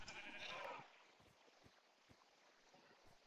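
A Minecraft sheep lets out a short, bright bleat at the start, followed by quiet game ambience with faint, scattered clicks and taps.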